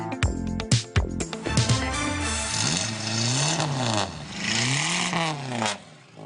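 A Renault 5's engine revs hard close by, several quick throttle blips followed by rising and falling revving sweeps that end abruptly.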